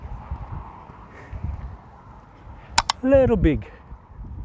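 Donkeys seen from a roadside near Botrivier give a short braying call near the end, a rising and falling honk after quiet background, with a person speaking briefly just before.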